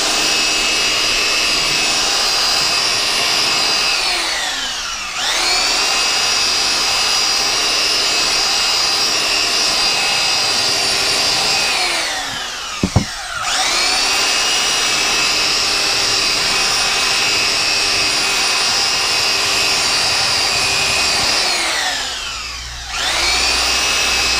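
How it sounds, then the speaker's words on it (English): A power tool, likely a router, smoothing and beveling the edges of a wooden cutting board, whining loudly in long continuous passes with pauses between, plus a sharp knock midway, close up and with no voices. "just smooth off the edge a little bit. And bevel the edges just a little bit"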